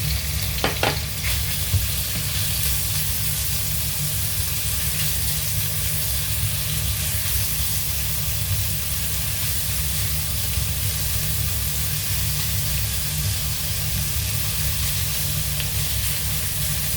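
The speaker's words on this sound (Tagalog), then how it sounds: "So, lalagay natin yung bacon." Bacon fries in a pan for carbonara, giving a loud, unbroken sizzle and spatter close up, with a couple of brief clinks near the start and no voices over it.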